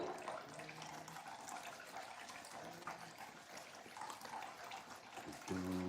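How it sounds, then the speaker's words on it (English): Plates being washed in the morning under a running tap, a steady close stream of water with faint clinks and splashes throughout, no talk. "This is the way we wash our plates early in the morning."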